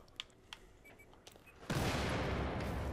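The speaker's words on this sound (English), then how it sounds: "Everything is just blowing up right now." Battlefield 4 multiplayer combat: a few faint, scattered gunshot pops, then a sudden loud explosion whose roar and crackle carry on at full strength to the end.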